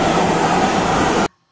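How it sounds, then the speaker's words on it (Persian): Crowded metro train ride: a loud, continuous roaring rumble of the carriage in motion, steady throughout and cutting off abruptly near the end. "مترو سوار شدم، رفت برگشت، مترو سوار شدم، مترو شلوغ."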